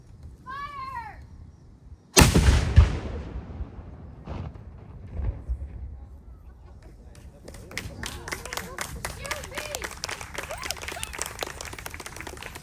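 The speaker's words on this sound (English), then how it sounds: "So I recommend you cover your ears, and we're ready to fire. Prepare to fire!" A historic artillery cannon fires at Fort Malden, one sudden loud boom that rolls off into a long echo, followed by scattered crowd applause and chatter.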